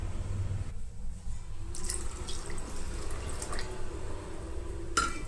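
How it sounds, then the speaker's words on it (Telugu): Water is poured from a cup into a bowl holding jaggery in a home kitchen. A close, continuous splashing trickle runs for several seconds, followed by a brief sharp clink at the end. "ఇదే కప్పుతోటి 2 కప్పుల నీళ్ళను కూడా పోసుకోవాలి."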